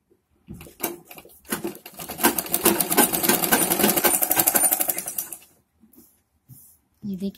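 Sewing machine running in a steady rapid burst for about five seconds, stitching the folded hem of a Patiala salwar, with brief handling noises before and after and no talking over the stitching.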